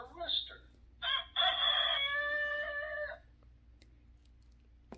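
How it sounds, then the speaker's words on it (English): A single rooster crow rising and holding for about two seconds, fairly close, with a short squawk just before it and quiet afterward. "R is for rooster."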